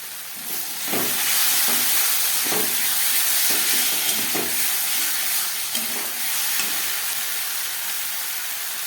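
Jackfruit curry sizzles steadily in the pan while being sautéed with ground cumin, a continuous close hiss of frying broken by periodic soft scrapes and stirs, with no talking.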